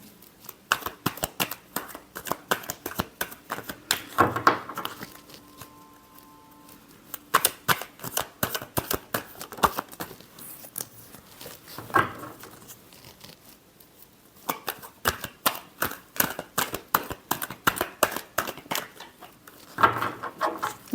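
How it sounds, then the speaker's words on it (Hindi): Tarot cards being shuffled close by in repeated bursts of rapid riffling and flicking, separated by short pauses. "Last shuffle."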